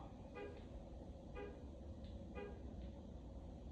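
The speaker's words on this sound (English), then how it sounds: "you can hear the honking" Short car horn toots from outside, three or four brief honks spaced about a second apart, faint and distant over steady background noise.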